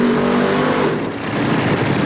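A top-fuel dragster at the 1988 NHRA California Nationals, a loud, harsh engine roar tearing down the strip with billowing tire smoke, sustained and close before dipping slightly and surging again.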